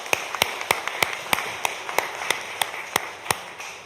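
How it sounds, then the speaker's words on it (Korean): A church congregation clapping in welcome during a Sunday worship service, sharp claps falling together in a steady, even beat about three times a second, moderately close, with no talking. "박수 환영합니다"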